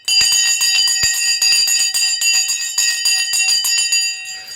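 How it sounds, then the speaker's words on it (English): A loud, continuous electric bell rings for the stock market open, a sustained metallic clanging with rapid repeated strikes that carries on steadily for several seconds. "Here goes the bell, and we are off."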